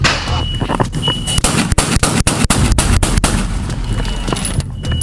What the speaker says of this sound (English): unleashed a barrage of gunfire with a fully automatic Glock handgun